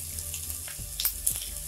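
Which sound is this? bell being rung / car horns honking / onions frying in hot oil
onions frying in hot oil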